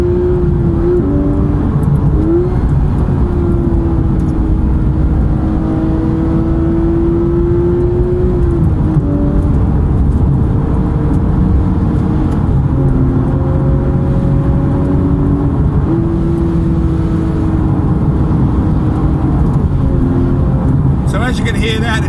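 A Porsche driven as a manual, lifting off through gear changes: a loud, steady engine drone from inside the car, with pitch dropping and climbing again at each shift.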